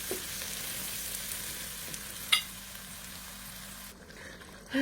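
Onions, garlic and berbere spice sizzling in a pan, a steady close frying hiss with a brief stir clink partway through.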